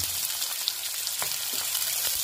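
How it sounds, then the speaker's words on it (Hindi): Roughly chopped onion shallow frying in a pan, a steady crackling sizzle with scattered pops and light stirring sounds, close and continuous without speech. "अब इसको हल्का सा सेलो फ्राई करना है"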